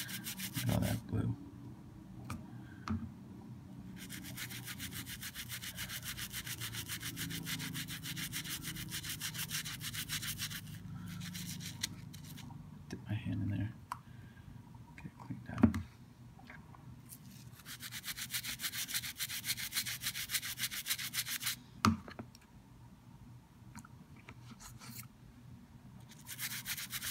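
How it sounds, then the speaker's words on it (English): Steady brushing and rubbing as a vintage Sheaffer Balance fountain pen feed is scrubbed with toothpaste, a close, continuous scratchy friction broken by a few brief pauses and clicks, with no talking. "The feed definitely needs cleaning. I'm gonna clean the feed as well. Toothpaste on there."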